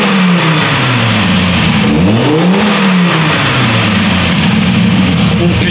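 A loud Audi engine runs hard on a dyno, revving up and down in smooth sweeping swells under a constant roar. No voices are heard over it.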